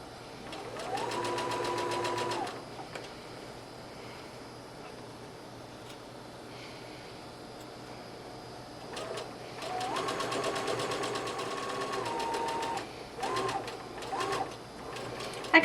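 A sewing machine stitches a dress seam in two bursts, first running fast, then pausing, then running again with a short reverse to lock the stitch, close and steady with quiet room noise between.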